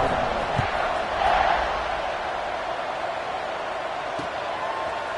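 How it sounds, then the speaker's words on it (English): Stadium crowd in a college football video game buzzing steadily after a score, a broad continuous roar that swells slightly early on, with no distinct cheers standing out. "this crowd is buzzing after that last score"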